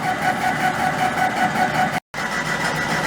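A metal lathe taking a 50 thousandths depth of cut at reduced RPM, giving a steady, loud machine whir and hum with one brief dropout.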